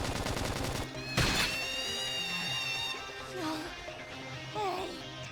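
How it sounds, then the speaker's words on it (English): Gunfire in the video game Xenoblade Chronicles X Definitive Edition: one sharp, loud burst of shots rises over a sustained musical score, followed by softer game effects. "Try toppling it with gunfire."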